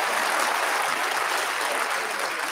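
An audience at a political gathering claps loudly and steadily, a dense, even wash of many hands sustained for a few seconds with no break and no voices on top.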